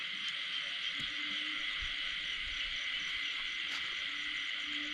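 Crickets and frogs calling at night in a rice field after rain, a dense, continuous insect trill filling the background with faint scattered croaks and clicks, steady and moderately loud, with no clear talking.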